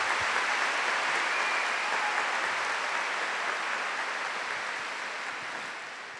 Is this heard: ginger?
no